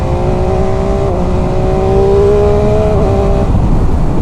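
A 2019 MV Agusta F3 800 three-cylinder motorcycle engine runs loud and close, holding a steady drone with a slight rise in pitch before easing off near the end.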